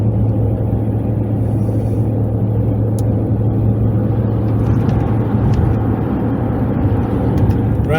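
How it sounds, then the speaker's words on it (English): Continuous low engine drone and road rumble from a truck cruising an Atlanta interstate, steady and loud from inside the cab, with a brief rattle or click now and then and no talk. "because of the noise this truck makes"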